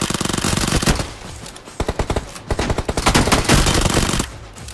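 Continuous automatic gunfire from the mobile shooter game BGMI, dense rapid bursts of shots with short gaps, loud and close throughout with layered overlapping fire.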